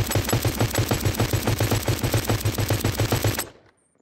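Rapid automatic gunfire in the 5v5 FPS shooter Project Rush B, a steady burst of evenly spaced shots lasting over three seconds, loud and close, then cutting off abruptly to silence.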